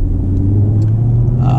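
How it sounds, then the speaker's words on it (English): A 2019 Chevrolet Camaro ZL1 1LE automatic engine rumbling steadily at close range while shifting gears in manual mode, with a low drone that shifts in pitch as it runs, no speech over it. "But you can hear the gears."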